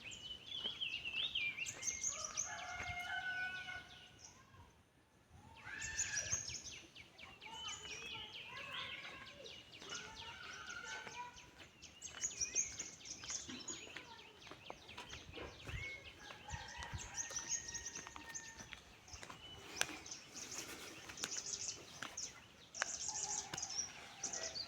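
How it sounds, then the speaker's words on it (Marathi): In a Konkan village in the morning, several birds call and chirp in bursts while a rooster crows among them. The calls ring clear at moderate distance, with brief gaps and faint background noise. "म्हणजे पक्ष्यांचा तुम्ही आवाज ऐकाल"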